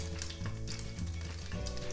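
Cumin seeds sizzle and crackle in hot oil for a cabbage curry, a steady close frying hiss with small pops throughout, no voices.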